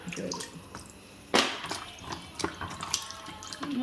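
Okra being rinsed in a home kitchen, with running water splashing and dripping steadily, a sharper splash partway through and intermittent drips, close by with no talk.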